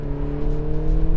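A BMW Z4 sports car's engine revs loud and close as it accelerates through the gears, a steady throaty drone that builds slightly, heard alone without talk.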